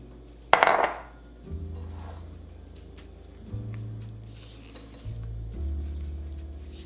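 Kitchen clatter as a flour mixture is stirred into eggs for keto Christmas cookie dough, opening with a sharp bowl-and-utensil knock, then softer scraping and stirring with low background hum, no talk.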